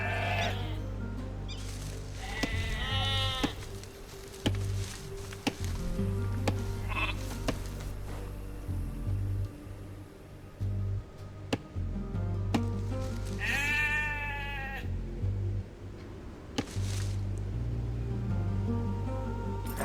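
Sheep bleat in the video game Age of Empires II, a few wavering calls rising over a steady low game ambience with small clicks, repeated twice across the stretch.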